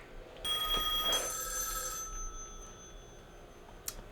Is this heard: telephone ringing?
yes